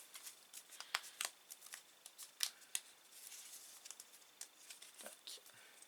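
Marvel trading card packets being opened by hand, with a run of close, quiet crinkling and tearing foil crackles in irregular bursts that grow and fade over several seconds.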